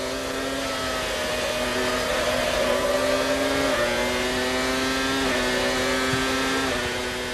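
1996 Formula 1 race cars, Villeneuve's car passing Schumacher's Ferrari around the outside of a long right-hander: high-pitched engines scream steadily, with the pitch dipping and climbing through gear changes as they sweep past.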